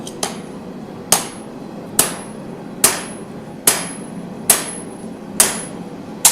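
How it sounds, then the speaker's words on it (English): Hammer blows ring out on hot metal at a forge, eight sharp, bright strikes in a steady rhythm about once a second, close and loud over a quiet workshop background. "What's my secret hammering technique?"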